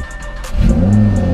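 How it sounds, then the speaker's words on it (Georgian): A flood-damaged Audi R8 bought at a Copart salvage auction starts up: a low idle rumble swells into a loud, close rev with rising engine tones that stays strong to the end. "დავქოქეთ, დაიქოქა ავტომობილი"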